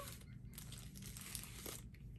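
Plastic wrapping on a yarn package crinkles and tears steadily as it is opened, a close, continuous rustle throughout.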